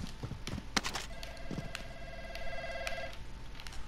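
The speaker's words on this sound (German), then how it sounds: "Oh, hier ist wieder das Telefon." A telephone rings in Call of Duty Warzone, a bright electronic trill held for about two seconds amid clicks, footsteps and short impact noises in the game's ambience.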